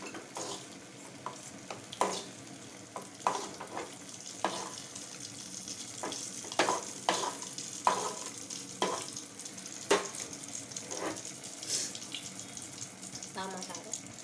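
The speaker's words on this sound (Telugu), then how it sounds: "వంకాయలు మగ్గాలి అంతే, మొత్తం మగ్గితే చాలు." Eggplant cooks in a pan with turmeric, with a soft sizzle under repeated sharp scrapes and clinks of stirring spread across the whole stretch, recorded close.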